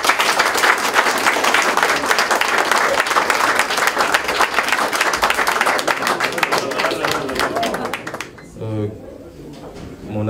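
A dense crowd applauds at a birthday tribute, sustained loud clapping for about eight seconds before it fades and a voice begins speaking.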